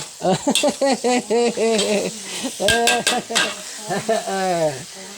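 A metal spatula knocks and scrapes against a wok while basil chicken stir-fries in hot oil, sharp clanks over steady sizzling, with a voice talking loudly and expressively over the cooking.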